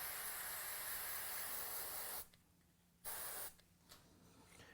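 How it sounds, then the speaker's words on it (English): Spray glue hisses from an aerosol can onto a homemade model tree in two bursts, a long steady spray, a pause, then a shorter one, close and loud, followed by quieter faint handling. "I'm going to give it a shot of the spray glue."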